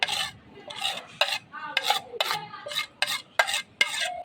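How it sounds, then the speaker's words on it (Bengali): Cooked chicken filling is mixed with mozzarella cheese in a bowl for chicken balls, giving a series of rhythmic, close scraping and rubbing strokes of a spoon against the bowl, repeated about ten times. "মজলা চিজের সাথে চিকেন পুটটা মিশিয়ে নিচ্ছি"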